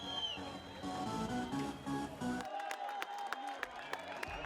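Roadside spectators at the Tour du Rwanda cycling race, on the Kigali to Huye stage, clap and cheer from a short distance, a scattered applause with sharp individual claps standing out after the crowd murmur thins.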